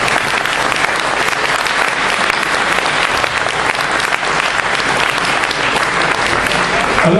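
Sustained, dense applause from a large audience at a French political debate between two candidates, loud and steady throughout without a break.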